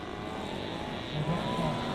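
A model aircraft makes a slow flyby at an outdoor air show, its engine a steady distant drone that swells slightly as it passes.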